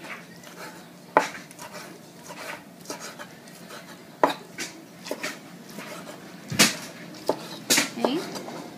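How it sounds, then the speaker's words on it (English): Knife strikes on a cutting board as cooked lobster is chopped into small pieces for Cuban-style mac and cheese: scattered, uneven sharp taps with a few louder knocks, close up in a quiet kitchen. "I'm just going to chop it up into little pieces."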